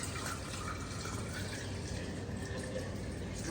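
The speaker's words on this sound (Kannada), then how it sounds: "ಒಂದು ಜಗ್ ನೀರು ನಾವು ಹಾಕಿದ್ದು ಅಷ್ಟೇ" A jug of water pours into a countertop kitchen water distiller, a steady, faint, hissing stream running continuously without breaks and with no voices.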